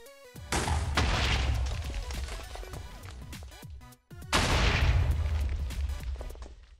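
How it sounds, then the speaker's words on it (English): Two loud booming creeper explosions in Minecraft, each a sudden burst that lingers with rumbling debris before fading, with a brief gap between them. "Creepers also make a nice explosion."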